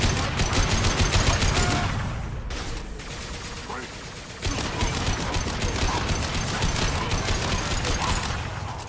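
Rapid automatic gunfire in Mass Effect 2 chatters in fast, evenly spaced bursts, breaking off briefly before resuming, loud and close, with mechanical clicks mixed in.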